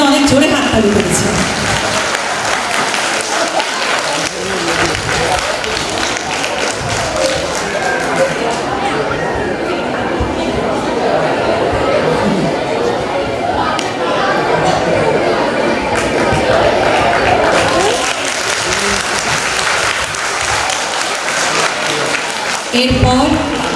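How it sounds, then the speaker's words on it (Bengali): An audience at a school function in Taki claps loudly in sustained applause for nearly the whole stretch, rising and thinning slightly at the end, with voices mixed in. "একটা জোরে হাততালি চেয়ে নেব তার জন্য।"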